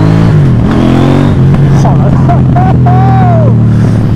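KTM Duke 790 motorcycle with its stock exhaust revving close up, a loud throaty engine note rising and falling in quick blips, with a man's brief exclamation over it.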